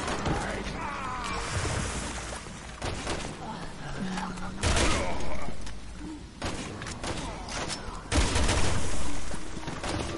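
Gunfire bursts from Resident Evil 6, sharp repeated shots and a short volley mixed with mechanical clanks and game effects, loud and busy throughout with brief louder blasts.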